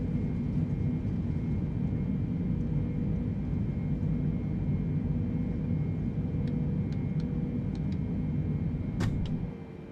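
Boeing 747 engines in Microsoft Flight Simulator 2020 give a steady, heavy roar and rumble on takeoff. It holds at a constant level throughout, with a few faint clicks and beeps near the end.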